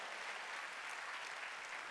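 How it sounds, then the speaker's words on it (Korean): A church congregation at a Wednesday worship service claps in a continuous, even wash of applause, fairly soft and without voices. "이건 하나님의 말씀인 걸 믿으면 박수 치라 해요"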